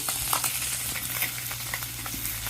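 Tangra fish fry in a pan in a village kitchen, a continuous bright sizzle with light stirring clicks, close and steady throughout and with no voices.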